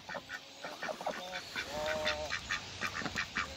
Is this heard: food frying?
no